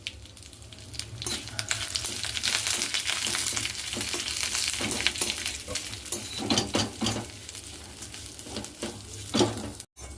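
Dry coconut, curry leaves, fenugreek and cumin frying in oil, a continuous close sizzle broken by frequent scrapes and clinks of a spoon stirring in the pan.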